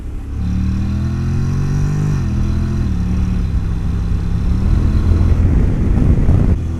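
A 2019 Honda NC750X DCT motorcycle ridden in manual mode drones steadily and loudly up close, its engine pitch climbing and then dropping as it shifts gears, with wind rumble building toward the end.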